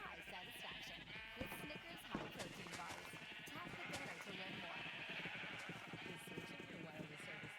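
Sheep in the Minecraft video game bleat repeatedly over a dense, busy soundscape with scattered hoof-like clops, fairly quiet overall.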